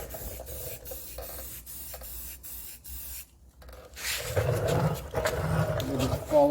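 Spray gun nozzle with a dirty, clogged tip, spitting and hissing in broken bursts before settling into a fuller, rougher continuous spray, close up.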